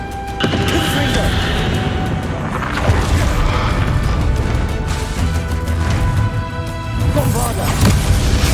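A Confringo fire spell blasting in Hogwarts Legacy gameplay, a loud, dense rumbling boom that fills the whole stretch amid layered game effects and score, with a voice speaking over it.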